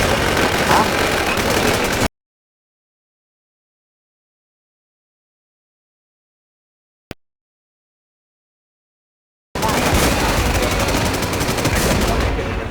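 Gunfire in the video game Warz, dense bursts of shooting for about two seconds, then near silence with one sharp lone crack, before heavy firing resumes loudly for the final few seconds.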